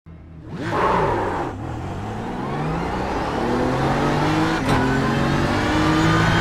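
A BMW M4 GT3 race car in iRacing at Road Atlanta roars up through its revs, with a loud, continuous engine whine that climbs, dips briefly at a gear change and keeps building.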